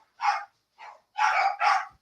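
Dogs barking in a short burst of four sharp barks, one softer than the rest, the last two close together, loud and near against silence with no talk.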